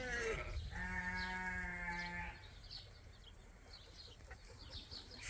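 A sheep on a farm gives one clear, drawn-out bleat at close range, followed by quieter outdoor background with faint bird chirps.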